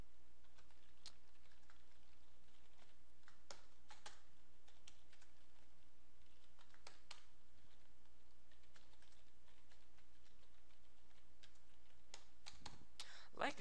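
Computer keyboard keys click in scattered, irregular bursts as code is typed, quiet and close over a faint steady hum, with occasional talking.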